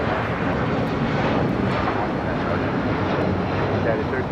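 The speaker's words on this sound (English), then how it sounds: "I have a United Airlines flight 1331. It's 757-200 now taking off here on the south side." A United Airlines Boeing 757-200 takes off from the south side at Los Angeles International Airport, its loud, close jet engines giving a sustained broadband roar that stays strong throughout, with talk underneath it.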